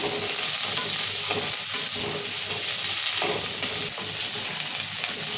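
Chilies, garlic and ginger frying in oil in a pan while being stirred, a steady close sizzle with scraping stir strokes throughout and no talking.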